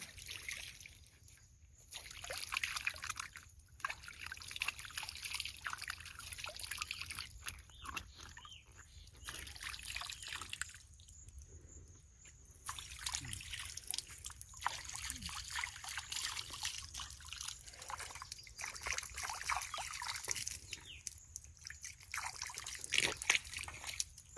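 Running water splashing and trickling steadily while something is washed outdoors, with broadband hiss that comes in bursts and brief pauses, close and moderately loud.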